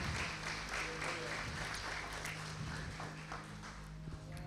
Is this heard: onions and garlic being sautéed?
no